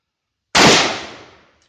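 A US Model 1917 rifle in .30-06 fires a single loud, sharp shot at a steel helmet about 18 yards away, with a sudden crack that trails off over about a second, then silence.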